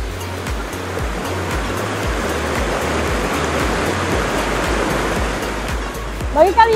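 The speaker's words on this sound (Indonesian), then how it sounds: "di mana suara air terjun mendominasi, Pancur Aji menjadi salah satu pilihan kalian" Pancur Aji waterfall roars with a steady, dense rush of falling water, loud and close, continuous throughout with a faint voice near the end.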